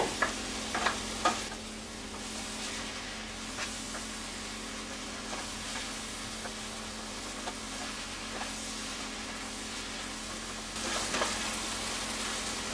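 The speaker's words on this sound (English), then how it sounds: "now I can throw in my cooked wild rice. And just heat it through." Cooked wild rice heats through in a pan for rhubarb wild rice pilaf, with a soft, steady sizzle and occasional stirring scrapes and clicks, close and fairly quiet, with no talking.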